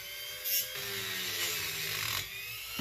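Grinding on a metal part of a McCulloch D44 hotsaw, a steady, fairly loud rasping whine that runs continuously with a few brief surges and no talking.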